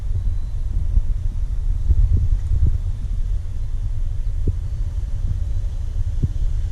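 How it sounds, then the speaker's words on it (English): Wind blows steadily across the microphone outdoors, a low constant rumble and buffeting with occasional faint gusts, loud and close with no voices. "Wind's picking up."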